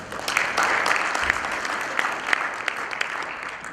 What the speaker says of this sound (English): Please another round of applause for Carter.